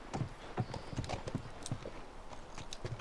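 A horse in the video game The Last of Us, with steady clip-clop of hooves, snorting and a soft whinny, close and clear over faint game ambience.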